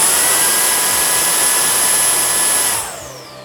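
A Milwaukee M18 brushless precision blower runs at speed setting 2 without a nozzle, giving a loud, steady high-pitched whine and rushing air that winds down sharply near the end.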